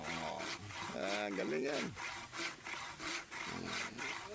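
Firewood being cut with a hand saw outdoors in a rural province, with steady rhythmic rasping strokes throughout and loud, close voices talking over the sawing.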